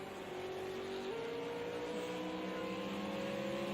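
V8 Supercars racing at Monza in a video game, with a steady, droning engine note from a car at speed that shifts pitch once partway through, continuous and moderately loud.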